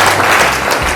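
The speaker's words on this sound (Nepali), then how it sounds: "हामी एकचोटि ताली बजाइदिउँ" Guests at a wedding break into a brief, loud burst of applause, dense close-up clapping that fills the full second.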